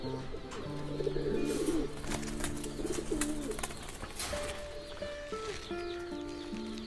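Fighter pigeons coo in a loft, repeated low calls layered over a steady background with scattered bird noises throughout.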